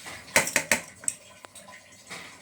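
Raw rice poured into a metal cooking pot for a large batch, giving a few sharp clinks and a rattling scatter of grains up close, then quieter taps.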